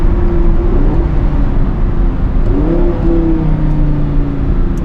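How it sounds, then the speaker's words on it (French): An Audi R8 V10 with a Capristo exhaust downshifts in normal mode. A steady, loud engine drone rises in pitch with a short rev blip partway through, then settles back to a smooth hum. "si je rétrograde,"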